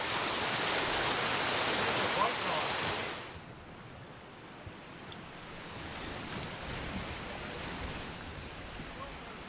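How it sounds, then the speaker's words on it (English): Fast river water rushes through rapids in a narrow chute. A loud, broad roar fills the first few seconds, then drops to a steadier, softer rush. "There's a lot of current, a lot of rapids, a lot of fast-moving water down this little chute here."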